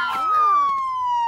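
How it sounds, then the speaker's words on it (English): A siren wail sweeping slowly downward in pitch, loud and close, lasting just over a second. "Not the siren, Howie!"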